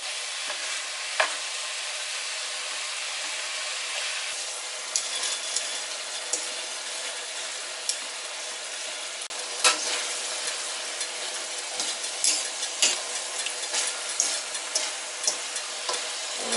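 Ground meat for stuffed peppers sizzles and fries steadily in a pan, a continuous bright hiss with scattered pops and occasional scraping clicks from stirring, with no talking.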